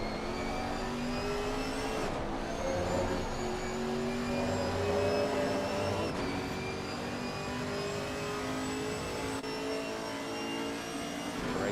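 A Le Mans NASCAR hybrid race car in a racing video game, Misano circuit, drones loud and steady at high revs throughout, its engine whine shifting pitch gradually with brief dips at gear changes, with no voices.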